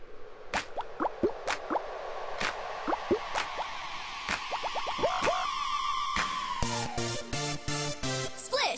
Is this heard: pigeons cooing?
no